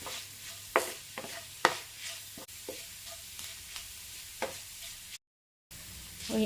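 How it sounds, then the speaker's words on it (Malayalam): Chopped ginger frying in a pan while being stirred: a soft steady sizzle broken by repeated close scraping strokes of a spoon at an uneven rhythm, with a brief silent gap near the end. "ഇഞ്ചി നല്ലതുപോലെ ഫ്രൈ ആയി വരുന്നുണ്ട് കുറച്ച് സമയവും കൂടി വേണം"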